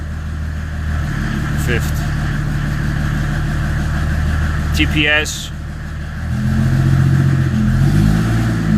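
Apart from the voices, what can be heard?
van engine revving and changing gears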